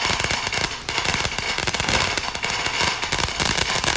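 A 200 gram consumer firework fountain going off, a loud, continuous dense crackling and spraying hiss with rapid sputtering bursts that holds steady throughout.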